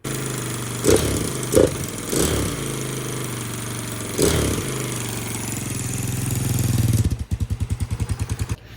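A Honda XR150 motorcycle fitted with a 222cc big bore kit runs with a steady engine drone, swelling in a few revving bursts, then drops to a close, loping idle with distinct rhythmic pulses.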